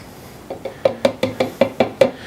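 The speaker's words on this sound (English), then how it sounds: "I'm going to borrow this knife from over by this roast beef to get my Dijon mustard in there" A knife scoops Dijon mustard into a bowl of mayonnaise, giving eight sharp, evenly spaced knocks against the bowl, close and loud with no talking.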